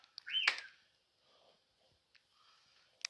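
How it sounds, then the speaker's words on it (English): A pet bird indoors lets out one sharp, loud chirp near the start, followed by a few faint, scattered chirps and clicks in an otherwise quiet room. "Sorry, Birdie Bird's being loud again."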